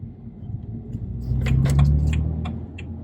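Car interior on a drive to a hospital in the UK, with a steady low engine and road rumble throughout that swells slightly midway, plus faint light rattles and clicks.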